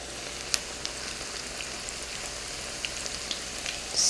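Battered onion pakoras frying in hot oil, giving a continuous close bubbling sizzle with scattered sharp pops and crackles, heard alone without talk.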